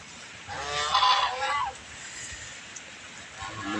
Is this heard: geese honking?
yes